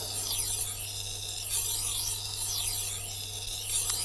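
Kitchen knife slid along the stone of a Tormek T-1 sharpener, giving a steady, close rasping scrape with repeated sweeping strokes over a constant low motor hum.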